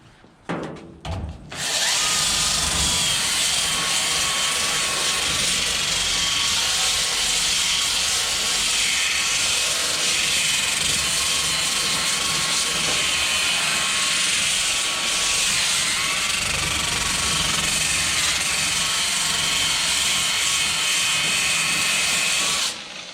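A power sander fitted with a coarse 40-grit pad strips paint from a 1955 Chevy, running as a loud, steady, continuous whir and hiss close by for the whole stretch after a brief start, with no talking.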